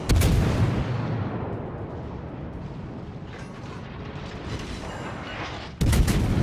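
The heavy cruiser Baltimore fires its naval guns in the World of Warships video game, a loud booming salvo that rumbles and fades out, followed by another sharp blast at the end.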